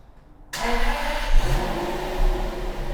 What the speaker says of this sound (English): wanted to hear that famous V12 for the very first time. Right, and Gav, start it up.